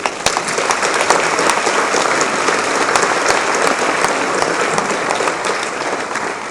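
Crowd applauding at a municipal New Year's ceremony in Aulnay-sous-Bois, a loud sustained wash of many hands clapping with sharp individual claps standing out, alone without speech.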